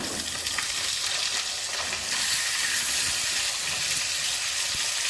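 Potatoes and flat beans dropping into hot oil tempered with nigella seeds, for a Bengali fish curry, sizzling steadily and loudly up close, the frying swelling stronger about halfway through, with no talk.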